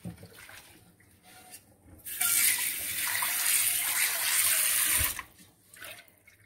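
Cooked rice being poured into a colander for draining, a burst of rushing, splashing water for about three seconds, loud and close, with quieter kitchen handling before and after.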